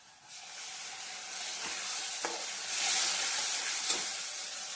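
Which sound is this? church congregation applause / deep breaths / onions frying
onions frying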